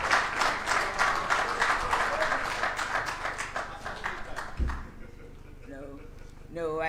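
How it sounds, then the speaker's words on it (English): An audience at an ethics lecture breaks into a round of applause, dense clapping that fades after a few seconds, followed by quieter room sound and a voice starting to speak. "Round of applause for me."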